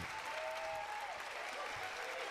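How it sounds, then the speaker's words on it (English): Audience applause from a televised 50th anniversary show, a steady dense clapping that sounds slightly distant and thin, with faint voices mixed in throughout. "Who do you think they're clapping for?"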